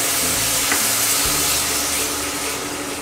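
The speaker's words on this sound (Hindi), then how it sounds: "दोस्तों हम डालने जा रहे हैं टमाटर प्यूरी" Tomato puree hits a hot pan with a steady, loud sizzle and frying hiss that runs unbroken throughout, with a faint stir near the middle.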